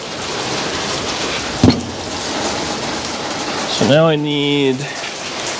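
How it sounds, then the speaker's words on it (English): Steady broadband hiss of rain falling throughout, with a voice speaking briefly partway through over the downpour. "It's really raining there."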